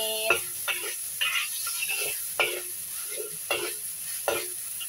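Ginger, chili and garlic stir-fried in a pan for a Hong Kong style cucumber dish, a faint hissing sizzle under a steady rhythm of spatula scrapes, roughly one stroke each half second, with no voices.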